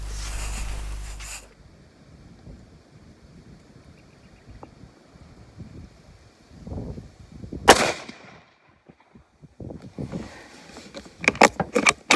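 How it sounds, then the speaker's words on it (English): A .308 rifle with no muzzle brake fires outdoors, giving a sharp, loud broadband crack near the middle, followed by scattered handling clatter and wind noise. "Let's grab the 308, there's no muzzle brake on it, and see how it stands up to that recoil."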